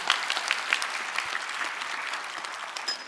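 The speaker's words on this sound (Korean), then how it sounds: "박수." A church congregation claps for the pastor during an evening revival service, a brisk burst of many hands that stays steady, moderately loud and unaccompanied by speech.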